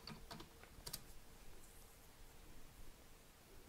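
A short burst of keystrokes on a computer keyboard while typing a command on a Raspberry Pi 4, a few quick clicks early on and then quiet room hiss.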